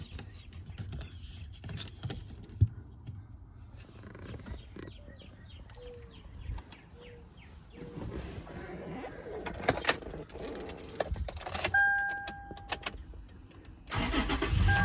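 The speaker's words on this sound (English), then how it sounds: "Start the vehicle up." A 2010 Toyota 4Runner is started during a transmission service. Keys jangle and a few clicks come first, then the engine cranks and catches and settles into a quiet idle. Faint birdsong sounds in the background.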